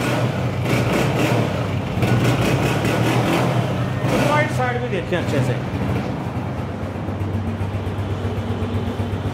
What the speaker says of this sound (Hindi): अच्छे रिदम में इंजन बोल रहा है